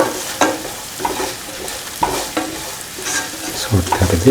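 Spoon stirring salt through chopped beans with Kashmiri chilli, mustard and fenugreek powder for an instant pickle, giving irregular close scraping and wet mixing strokes over faint sizzle, with a brief spoken phrase.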